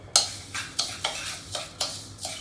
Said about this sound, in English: I've got 2 tablespoons of butter that I'm gonna mix with this.